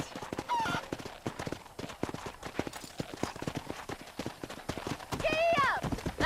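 Horse hooves clip-clop in a quick, steady trot on a dirt road in the Western video game Red Dead Redemption, close and continuous, with a brief whinny and speech over the hoofbeats.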